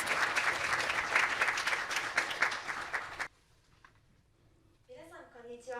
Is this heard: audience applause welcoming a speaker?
yes